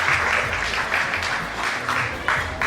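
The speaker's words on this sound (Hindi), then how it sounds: "इसके लिए भगवान के लिए एक बार ताली बजा देते" An audience at an event applauds steadily with dense, continuous clapping throughout, moderately loud and close, with no voices standing out.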